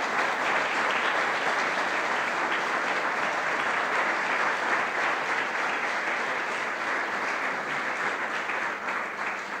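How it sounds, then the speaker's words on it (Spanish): A church congregation applauds steadily for the full length, a dense, sustained wash of clapping with no break and no clear voices on top. "Den un aplauso al Señor."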